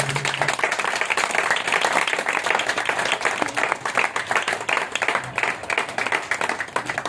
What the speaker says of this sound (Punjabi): ਤਾਲੀ ਵਜਾਵਾਂਗੇ ਪ੍ਰਭੂ ਦੀ।